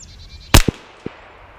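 A single sharp gunshot from a CMMG Banshee in 40 S&W fired at a 100-yard range, loud and abrupt, followed by two faint short knocks of the distant impact and echo.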